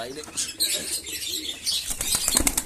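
Pigeons burst out of an old cage one after another on a Sunday morning, their wings flapping in quick close flurries with soft coos mixed in, while a person talks over the fluttering.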